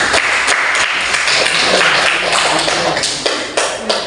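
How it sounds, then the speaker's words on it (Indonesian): A classroom group of students claps for a presenting group, loud and close, a steady patter of many hands that thins toward the end. "Berikan aplaus untuk kelompok."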